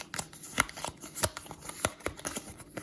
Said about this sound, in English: I'm just going to shuffle these up